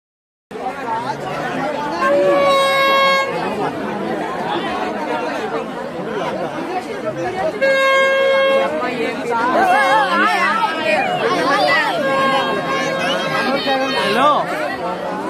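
A dense crowd at Vinayaka Chavithi festival celebrations fills the air with continuous loud chatter and overlapping voices, with a few voices standing out near the microphone throughout.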